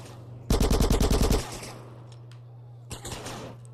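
Rapid gunfire in the video game GTA San Andreas, a loud close burst of about ten quick shots followed after a pause by a fainter, shorter burst over a low steady hum.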